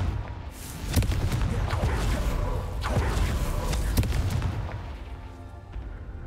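A Confringo blasting spell explodes in the Hogwarts Legacy video game, a dense, booming roar of blasts and crackling bursts that holds loud and steady for several seconds before thinning slightly, with no voices.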